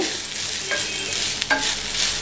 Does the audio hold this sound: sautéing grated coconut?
yes